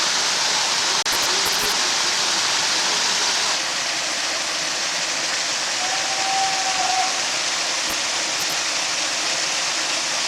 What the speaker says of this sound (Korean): 자 칠연폭포 가까이 왔습니다